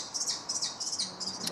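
High, thin calls from kestrel chicks repeat in quick bursts, shrill and steady over a faint background hiss.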